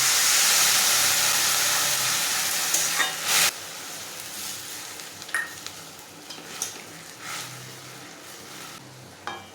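Water poured into a pan of frying papaya for chutney sets off a loud burst of sizzling and steam hiss that gradually settles into a quieter simmer, with a few clinks of a spoon stirring.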